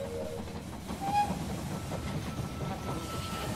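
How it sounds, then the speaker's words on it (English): A train pulls into a station in the strategy video game They Are Billions, giving a steady rumbling clatter with a brief high whistle tone partway through. "The train has arrived"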